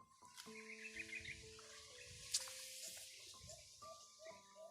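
Faint, repeated bird chirps and short calls sound outdoors at a rural camp, scattered over quiet background noise.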